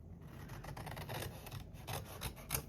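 Scissors cutting through paper while making triple pockets from 6x12 inch papers, a soft close-up series of rasping snips in an uneven rhythm, quiet and without talk.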